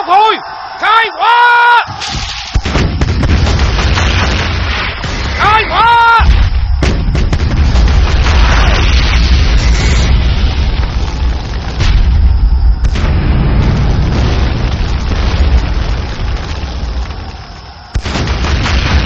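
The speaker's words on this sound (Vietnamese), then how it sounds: "Toàn đội thần công đại pháo nghe lệnh, đại pháo đồn Ngọc Hồi khai hỏa." Cannon artillery fires at Ngoc Hoi fort in a continuous roaring barrage of loud booms and blasts, preceded by brief shouting voices, sustained and dense for most of the stretch.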